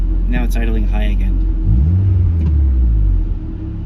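A Mazda Miata engine settles to about 1,000 rpm idle, a steady low rumble under a short burst of nearby voices, then a smooth drone that fades slightly at the end.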